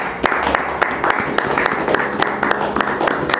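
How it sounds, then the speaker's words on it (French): Worshippers at a Saturday church gathering applaud after a prayer, loud close clapping with distinct sharp individual hand strikes standing out over a crowd wash, steady throughout. "Est-ce qu'on peut applaudir pour Dieu?"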